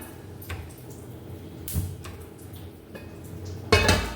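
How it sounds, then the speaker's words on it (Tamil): An idli steamer pot is set down on a gas stove in a home kitchen, with scattered metallic clanks and knocks and a louder clatter near the end, no talk. "இப்போ ஒரு இட்லி பாத்திரத்தை அடுப்பில் வைக்கலாம்."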